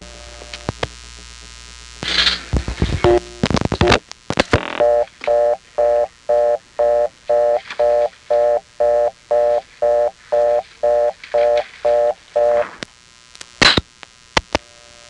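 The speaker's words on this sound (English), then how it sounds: "when a number one step has one of these, its reorder can sound like this." A fast, evenly pulsed reorder tone from a step-by-step telephone exchange beeps steadily for several seconds, preceded by clicks and switching noises on the line.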